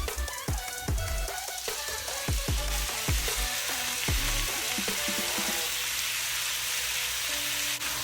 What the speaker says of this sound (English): I'm just gonna brown my pork for about 3 to 5 minutes.